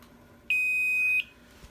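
A security system alarm device sounds during a test with a single steady high electronic tone lasting about a second. It is loud and close, then stops abruptly and leaves a quiet room.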